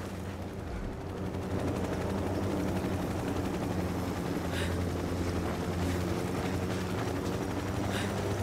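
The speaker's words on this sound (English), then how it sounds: "The damn helicopter gotta go." A military helicopter in the video game Ghost Recon Wildlands drones with a steady, heavy rotor and engine rumble throughout, holding constant loudness, with faint bursts of distant gunfire mixed in.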